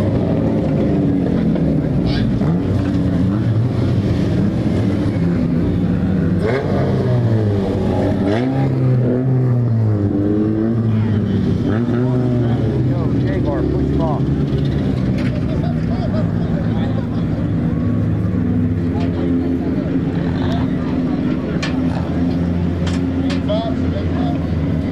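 Race car engine at a speedway refired and rolling, a loud continuous revving drone with shifting pitch, under steady commentary.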